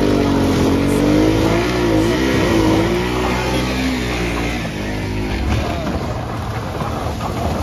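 A car engine revs and climbs in pitch, then settles into a steady rumble in a parking area, loud and close, with crowd murmur faintly behind.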